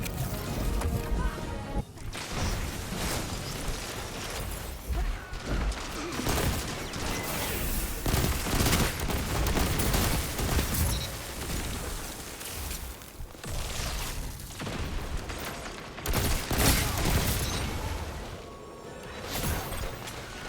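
Rapid bursts of gunfire in a Destiny 2 player-versus-player match crack and thud repeatedly, dense and loud, with brief pauses between volleys.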